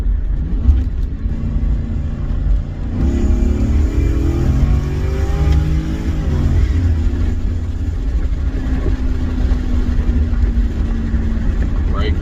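A Lincoln Mark 8 driven on the road gives a steady engine hum and road rumble, with a brief rise in engine pitch partway through, heard close from inside the cabin.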